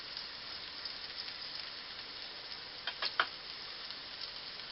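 Steak cooking in a pan for a French dip sandwich dinner gives off a steady, even sizzle, with a few brief pops near the middle and no talking.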